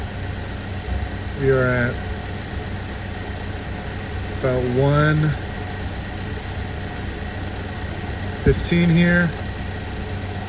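A steady low engine idle from a Chevrolet Equinox hums throughout, with someone speaking briefly over it three times.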